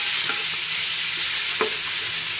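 Shrimp stir-fried in a hot pan give a loud, steady sizzle, with a couple of brief utensil scrapes and taps against the pan and no talking.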